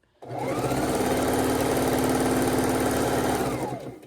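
A sewing machine stitches quilt seams steadily for a few seconds, a fast even whirring that starts abruptly and winds down at the end.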